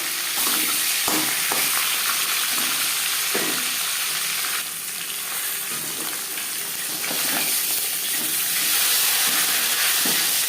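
Fish head from a freshly caught catla frying in refined oil gives a loud, continuous close sizzle with scattered pops and crackles throughout, with no talking over it.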